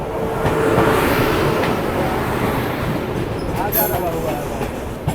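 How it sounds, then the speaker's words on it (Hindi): Vikramshila Express passenger train rolling out of Patna, a steady loud rumble of wheels and carriage noise throughout with faint rhythmic track clatter and a brief higher squeal near the end, some voices faintly mixed in. "अपनी ट्रेन निकल चुकी है पटना रेलवे स्टेशन से।"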